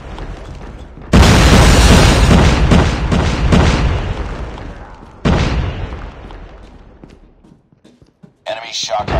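A Shock RC drone blows up during a Call of Duty Mobile team deathmatch on iPhone, a sudden loud booming blast that rolls on as a long rumbling tail, followed by a second strong burst and a short spoken game announcement near the end.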